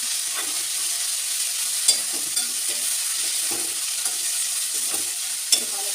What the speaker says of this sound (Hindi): और इसमें डाल दूँगी मैं पालक